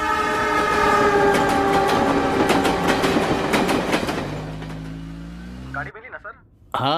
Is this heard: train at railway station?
yes